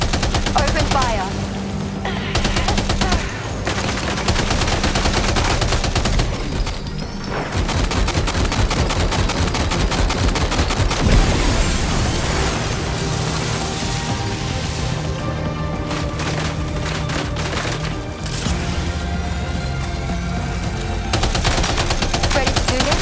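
Gunfire in the video game Death Stranding 2: sustained, dense automatic bursts rattle almost continuously, with heavy impacts and crashes mixed in and occasional voices beneath the din.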